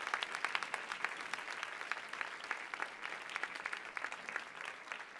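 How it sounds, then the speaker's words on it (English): A crowd claps steadily in sustained applause, dense and even, with no talking over it. "another round of applause"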